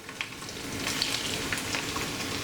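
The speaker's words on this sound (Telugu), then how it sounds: "కొద్దిగా ఫ్రై చేసుకుందాం." Coriander, fenugreek and garlic fry in hot oil with a close, continuous crackling sizzle and a few sharper pops over the short stretch.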